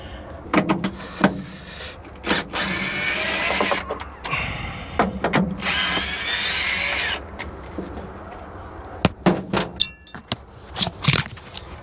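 A power drill unscrewing L brackets during an RV battery installation, heard as several short whirring bursts separated by pauses, with clanks and handling noises close by.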